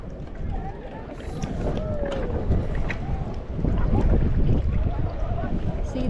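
A paddle boat moving across open water outdoors, with soft, steady paddle strokes and water splashes mixed into constant wind rumble on the microphone.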